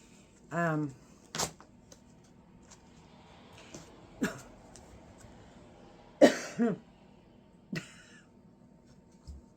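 Several separate coughs spread out over a quiet room, some sharp and single, one a quick double cough, close to the listener.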